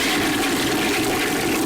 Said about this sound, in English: I'm going to hit the flush toilet sound.